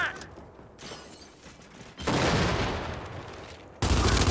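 Heavy automatic gunfire from a mulcher gun in the shooter video game Gears 5, coming as two loud sustained bursts of rapid fire. The second burst begins abruptly near the end after a quieter stretch.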